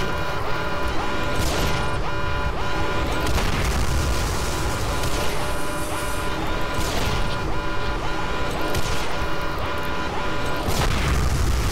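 Missiles explode around the player in Quake 4 during an EMP convoy fight, with repeated heavy booms and crashes every few seconds over a constant roar of weapon fire and machinery.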